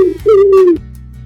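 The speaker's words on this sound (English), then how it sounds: "Pigeons are birds from the Columbidae family." A pigeon gives a single loud, close coo, a smooth sustained tone of about half a second followed by quiet background, with no other voices.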